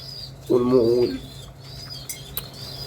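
Domestic pigeons kept by a breeder give a short, low throaty coo and brief wing flaps, with faint chirps against a steady background hum.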